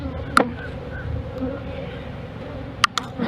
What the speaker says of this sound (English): some frame with some bees.